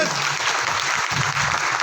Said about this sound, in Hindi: जोरदार ताली बजाया करेंगे